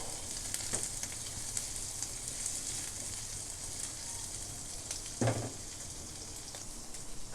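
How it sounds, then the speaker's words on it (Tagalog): Chicken gizzards fry for adobo in a pan, a steady loud sizzle running throughout with a brief louder burst of spatter near the end and no voices. "niluluto pa natin ang ating balon-balunan"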